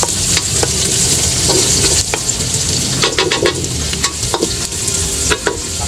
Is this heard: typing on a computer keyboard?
no